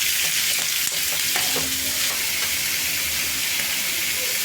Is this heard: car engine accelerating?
no